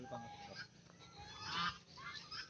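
Ducks on a fish farm pond in Komorpur village, Satkhira, give a few loud honking quacks, fairly near, over steady outdoor background noise.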